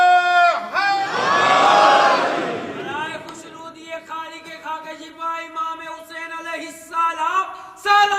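A crowd at a Muharram religious gathering shouts back a slogan in unison, a loud massed roar of voices swelling for about two seconds and then giving way to a single man's speech.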